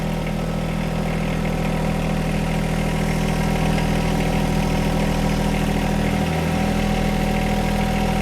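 A John Deere 1025R compact tractor runs in low range with a steady, even engine hum close by. The low drone holds throughout with only a slight dip late on, and no voices are heard.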